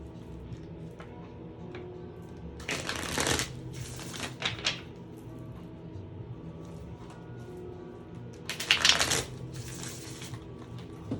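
A deck of tarot cards is shuffled in two short, crisp riffling bursts separated by a quiet pause, close and fairly loud against a faint room background.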